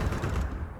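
Gunfire in the video game Counter-Strike, a dense, continuous burst of loud shots filling the whole short moment, with no one talking over it.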